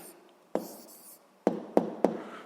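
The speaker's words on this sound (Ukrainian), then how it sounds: "Ну що ж, записуємо відповідь. Пишемо відповідь." Pen strokes on paper as an answer is written, a few short, close scratches and taps in a quiet room.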